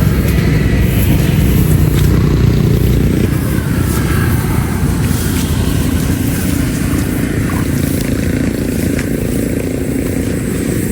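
Roadside traffic rumbles loudly and continuously as motor vehicles pass close by, a dense engine drone with occasional revving over a rough, wind-buffeted background.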